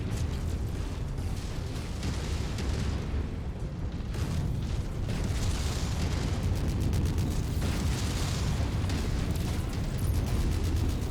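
A mech blowing apart in the video game MechWarrior 5: Mercenaries, a loud sustained rumbling explosion with heavy low booms and crackling bursts rolling on without pause, no voices over it.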